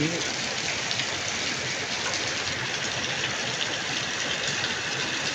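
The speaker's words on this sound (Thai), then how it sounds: "ดูครับดูครับฝนตก" Steady rain falls outdoors beside a green star gooseberry tree on a cool, breezy day, a dense, even hiss at moderate level that holds constant throughout with no voices over it.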